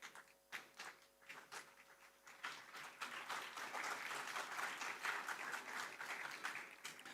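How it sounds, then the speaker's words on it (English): Audience at a lamp-lighting ceremony breaking into applause, starting as scattered separate claps and building into a fuller, steady round of clapping; fairly quiet and somewhat distant. "A big round of applause"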